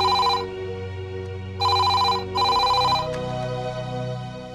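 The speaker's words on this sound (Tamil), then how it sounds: "ஜாஸ்மினுக்கு ஃபோன் பண்ணா அவங்க அப்பா ஃபோன் அடிக்கிறான்டா." A telephone rings with a bright electronic trill in three short bursts, each about half a second long, heard over a steady tonal hum in the background.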